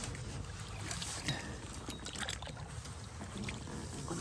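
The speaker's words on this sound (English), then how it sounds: "Paddling with one hand through the lily pads." A kayak is paddled one-handed through lily pads on Mauch Chunk Lake, Pennsylvania, with steady soft water swishing and faint splashes under a constant wash of wind and outdoor noise, no voices.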